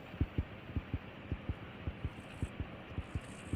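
Steady heartbeat in the Granny Chapter 3 horror game, a regular double-thump pulse repeating about fourteen times, close and prominent with a low hum beneath and no talking.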